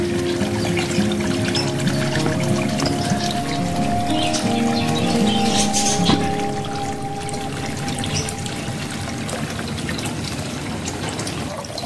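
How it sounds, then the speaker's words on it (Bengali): Light rain falling on a rooftop koi pond, a dense steady patter and splash of drops on water running without pause, close and fairly loud, with a faint trickling hum beneath. "চারিদিকে দেখুন জল, বৃষ্টি হচ্ছে, এখনো পর্যন্ত ঝিরঝির ঝিরঝির করে পড়ে যাচ্ছে।"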